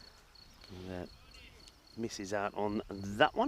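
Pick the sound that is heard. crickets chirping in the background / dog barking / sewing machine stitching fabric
crickets chirping in the background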